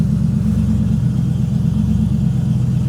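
A TVR sports car engine idles just after starting, with a loud, steady, low rumbling drone at close range throughout and no talking.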